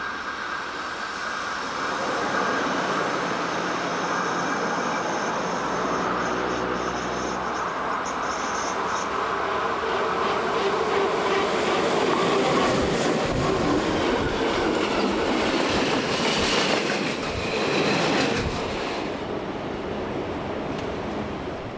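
Two old green ÖBB E45.2 electric locomotives rolling past, a loud continuous rumble and rail clatter with wheel noise building toward the middle and holding steady for over twenty seconds.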